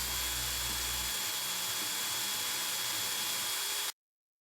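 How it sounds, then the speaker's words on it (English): A drill bores a pinhole through a knife handle, producing a steady, loud, high whine with a low hum at the start, running for about four seconds and then cutting off abruptly into silence. "Ready to drill the pinhole through."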